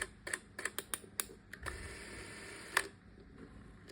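An Agfa Movexoom 10 Sound Super 8 film camera clicks sharply several times, then its mechanism whirs steadily for about a second before a final clack, close and quiet with no talking.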